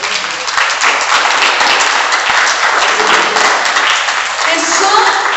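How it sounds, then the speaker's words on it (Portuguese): A church congregation claps loudly and continuously, a thick, close wash of applause that stays at full strength throughout. "Podemos aplaudir o nome do Senhor Jesus?"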